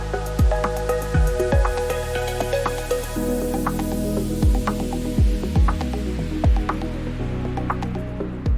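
A sublimation printer at work gives off a steady mechanical hum with repeated ratcheting clicks and thuds as the print head and paper feed move, close and continuous without talk.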